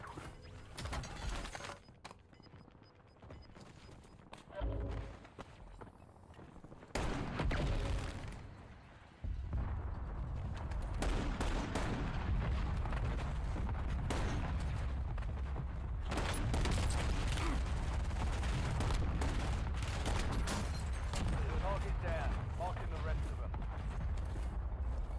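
Call of Duty Rebirth Island gunfire arrives in scattered loud bursts and booms, later settling into a steady, busy barrage, while people talk over much of it.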